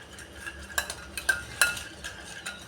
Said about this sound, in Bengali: এই লঙ্কা, হলুদ গুঁড়ো, লঙ্কা গুঁড়ো আর টক দই খুব ভালোভাবে আমি মিশিয়ে নেব।